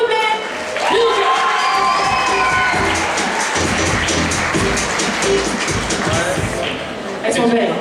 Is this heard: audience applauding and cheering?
yes